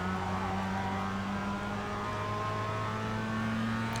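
Mazda MX-5 Cup race car in iRacing at Phoenix, engine held at full throttle with a steady, loud, sustained drone and slowly shifting pitch, close and alone with no talk.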